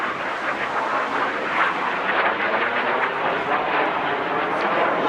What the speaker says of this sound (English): Each aircraft will perform a barrel roll.